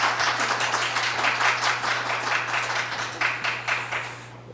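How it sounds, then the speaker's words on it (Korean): An audience at a Korean academic tax law conference claps to welcome a Gangwon University professor, a steady rippling round that swells, then thins and fades out near the end, with a low hum underneath. "큰 박수로 맞으십시오."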